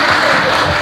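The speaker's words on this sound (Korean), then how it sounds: "수고하신 박사님 큰 박수로." An audience at a public lecture in Busan applauds the lecturer, a dense, loud wash of clapping that runs unbroken through a short moment.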